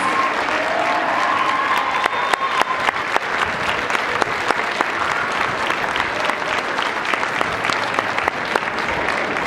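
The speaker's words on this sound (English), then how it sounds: "One last round of applause for our principal, Ms. DeAngelis." A large audience gives a final round of applause for a school principal at a public service award ceremony, sustained dense clapping with sharp individual claps standing out, loud and continuous.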